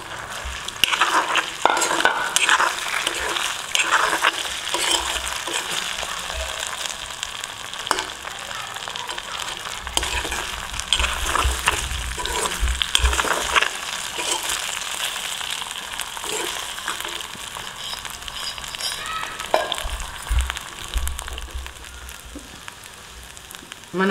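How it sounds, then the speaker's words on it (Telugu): Cut idli pieces fry in hot oil on a lowered stove flame, a steady crackling sizzle with intermittent stirring scrapes and bubbling bursts, close and continuous without any talk. "ఇప్పుడు కొంచెం స్టవ్ చిన్నగా పెట్టేసి మనం కట్ చేసుకున్న ఇడ్లీలను ఇందులో వేసి"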